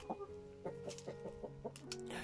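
Orloff Calico hens on a farm cluck in a quick, uneven series of soft calls, fairly close but low in level, with a faint backdrop of other birds.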